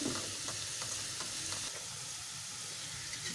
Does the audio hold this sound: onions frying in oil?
yes